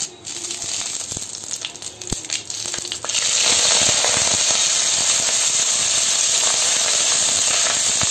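Curry leaves hitting hot oil with fried vadagam for a Hogenakkal-style fish kulambu, a few light crackles and taps at first, then a sudden loud, steady sizzling hiss that fills the rest of the clip.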